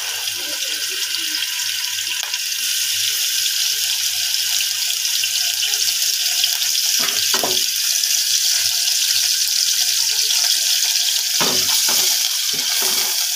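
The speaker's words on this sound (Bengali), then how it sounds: "তেল গরম হওয়ার পর" Chopped onion sizzles in hot oil in a pot for Bangladeshi-style egg pulao, a loud, constant hiss with a few light utensil clatters, and no talking.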